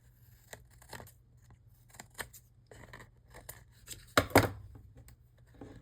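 Scissors snip through paper during a small papercraft make, a series of close, crisp cuts in an irregular rhythm, ending in a louder pair of sharper snips.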